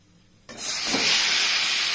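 Ground onion, garlic and ginger spice paste with black cumin hitting hot oil, a sudden loud hiss that bursts in and holds as a steady, strong sizzle.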